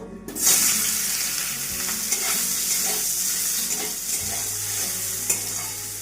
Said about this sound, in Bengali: প্রতিটা সবজি আমরা এক এক করে ভেজে নেব